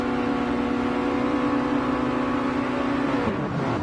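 Mazda touring cars sit revving on the grid at the start of a race on the Tokyo Expressway circuit, a steady, loud engine drone that holds for several seconds and then shifts pitch as they pull away.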